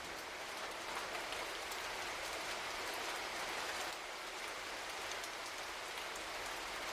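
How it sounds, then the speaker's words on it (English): Steady rain falls, its dense patter spreading evenly across the whole stretch without pause, close and moderately soft, with no voices. "The sound of rain is called petrichor."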